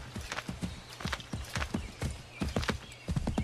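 Horse hooves clip-clopping in the Assassin's Creed 3 video game, a steady, close trotting rhythm with a whinny mixed in.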